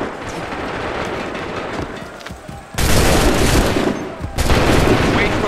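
Musket volleys fire in the video game Assassin's Creed 3. There are two loud, sudden bursts of massed gunfire, each a dense crackling roar lasting over a second, over a background of battle noise.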